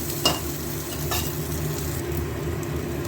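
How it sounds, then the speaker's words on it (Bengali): Ginger sizzles and fries in oil inside a pressure cooker, a steady close crackle throughout with a couple of brief stirring scrapes near the start. "প্রেশার কুকারেই উচ্ছেটা ভেজে নিলাম, ফোড়ন দিয়ে আদাটাও একটু ভেজে ভেজে নিচ্ছি।"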